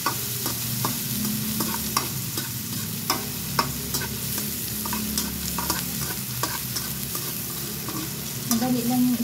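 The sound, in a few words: salmon being stirred and fried in a pan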